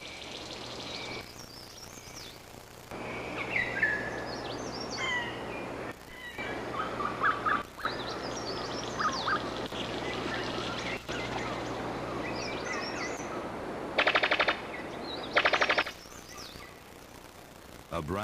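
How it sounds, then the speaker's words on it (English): A brown sicklebill bird of paradise calls repeatedly from New Guinea rainforest, its loud gobbling, turkey-like cries rising over dense insect and bird chorus while a narrator speaks. "A brown sicklebill bird of paradise."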